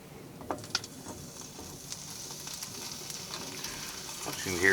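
Kielbasa sizzling in an oiled pan in a hot tent, a faint, steady crackle and spitting with a few louder pops, growing denser toward the end.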